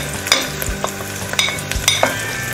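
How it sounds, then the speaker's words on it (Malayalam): Masala powders stirred into duck mappas as it sizzles in a pan, with scraping spoon strokes and soft clatters over a steady, close frying hiss. "ഇതിലേക്ക് ഇനി നമുക്ക് മസാല പൗഡേഴ്സ് ചേർക്കാം"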